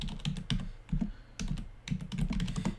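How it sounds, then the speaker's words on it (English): Rapid keystrokes on a computer keyboard as a search phrase is typed, close and clear, in uneven bursts of clicks with brief pauses, no talking. "I'm going to type a search phrase"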